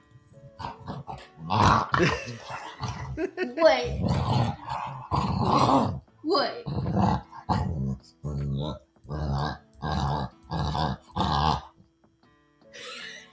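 A dog growls and grumbles in low, repeated bursts with short pauses between them, and a person speaks briefly partway through.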